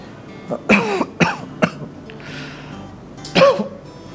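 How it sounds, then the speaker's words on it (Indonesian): Several harsh coughs from one person, a close double burst near the start, a single hack shortly after, then a final loud cough following a brief quiet gap. "malah batuk-batuk lagi begini"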